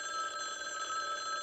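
An old-fashioned telephone bell rings steadily and clearly on its own, a bright continuous trill with no talking over it, heard indoors in a 1966 TV movie scene.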